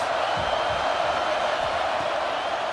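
A football stadium crowd in a video game gives a steady, dense roar throughout, with no break or swell.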